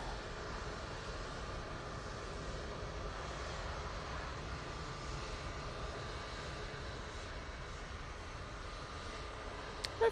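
An Airbus A321neo departs Manchester Airport bound for Preveza, its jet engines giving a steady, moderately distant roar that holds evenly for the whole stretch, with no voices.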